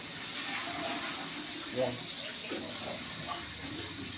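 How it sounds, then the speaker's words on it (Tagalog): Water poured into a pot of tilapia paksiw as it cooks, a continuous hissing, splashing stream under light background noise, with someone speaking briefly over it. "Maglagay din ng tubig mga idol"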